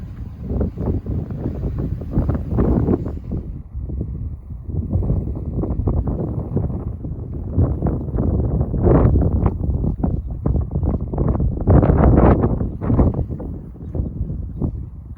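Cold wind buffets a microphone during a run on Magnolia Road, producing loud, continuous gusty rumble and whooshing that surges and fades throughout.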